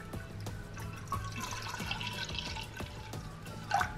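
Milk trickles and splashes into a saucepan already holding egg yolks for a stovetop custard, a steady close liquid pour with faint periodic clicks and a small splash near the end.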